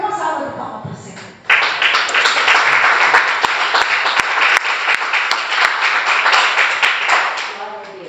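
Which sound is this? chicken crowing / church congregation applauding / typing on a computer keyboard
church congregation applauding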